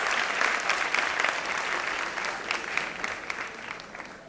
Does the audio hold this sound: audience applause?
yes